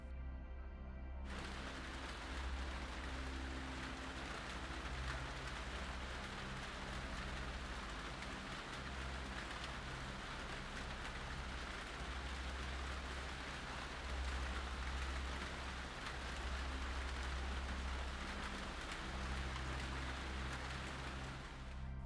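Steady rain falls continuously, a dense even hiss that holds at a soft level throughout with no voices.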